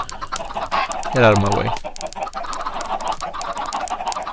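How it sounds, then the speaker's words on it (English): Chickens cluck in the Full Crank video game. A loud, drawn-out cackle rises in the middle of a steady stream of clucking and clatter, while a voice talks over it. "I've got baby chickens coming out, I've got adult chickens coming out."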